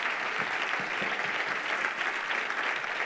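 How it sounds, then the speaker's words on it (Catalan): An audience applauds steadily for prize winners at an autumn awards event held at a hotel, a dense even wash of clapping that holds for about three seconds with no voices over it. "Un fort aplaudiment, no?"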